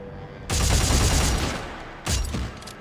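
Minigun firing in Dead Space 3, two loud bursts of rapid, rattling fire at close range, the first lasting over a second and a half and the second shorter, with a low hum in between.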